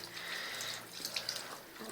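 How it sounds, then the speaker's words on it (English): Water trickles from a tap as a small stream rinses an Xbox 360 game disc, a steady close splashing and running sound for a couple of seconds with no talk. "I get just a little bit of water and slowly wash it off."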